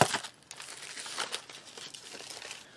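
Thin plastic bags from a South African SERAC Outdoor Cuisine MRE pack crinkle and rustle close up, with a sharp burst at the start, then a steady run of small crackles for about three seconds, no talking.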